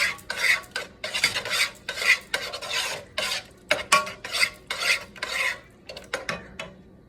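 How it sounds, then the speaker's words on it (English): Smothered chicken stirred in a pot with a utensil, rhythmic scraping and rubbing strokes in a steady series of bursts, close and fairly loud, no talking. "Stir that around."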